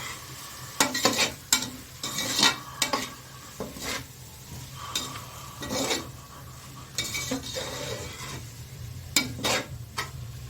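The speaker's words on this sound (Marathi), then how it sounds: "आता हे व्यवस्थित आपण परतवून घेणार आहोत" Undhiyu vegetables being stirred and sautéed with masala in a pan: a soft continuous sizzle broken by repeated scraping strokes and metallic spoon clinks against the pan, close up, no talking.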